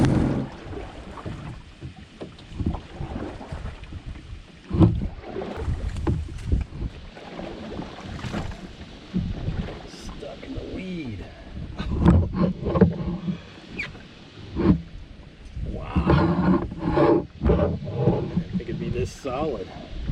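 Oars work a small sailboat through thick weed on a lake, giving irregular splashing and wooden knocks with occasional louder thumps against the hull, mixed with wind and scattered nearby talk.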